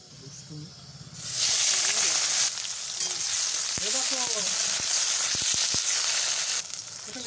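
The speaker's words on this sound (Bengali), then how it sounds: "পেঁয়াজ ভাজার দিলে আবার কালো জিরে ফোড়ন দিয়ে" Onions fry in oil with a nigella seed tempering, giving a loud, steady sizzle and hiss that starts abruptly after a second and carries on with faint crackles underneath.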